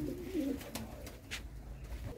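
A winning racing pigeon with pearl eyes gives a brief low coo near the start, faint against steady background noise and a few sharp clicks, with no talking.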